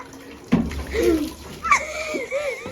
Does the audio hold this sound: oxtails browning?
no